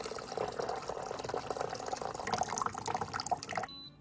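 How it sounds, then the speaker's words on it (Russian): Water pours into a container of food for a pomegranate-sauce meat dish, a steady splashing and trickling fill that runs close and continuous, then stops abruptly near the end. "Заливаем водой."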